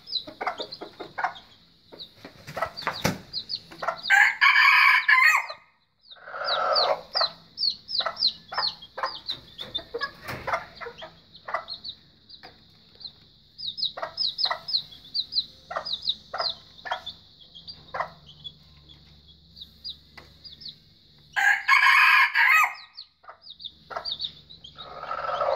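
Several chickens cluck and chatter around a new cage throughout, while a rooster crows loudly twice, once early and once near the end.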